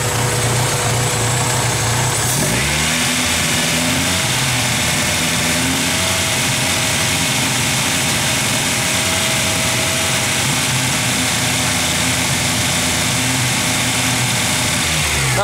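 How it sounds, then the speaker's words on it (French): A Honda D16Y7 engine in a red hatchback, tested for its alternator output, idles and then is revved, rising to a higher steady drone that holds loud and near. "si je le mets là, puis je donne du gaz"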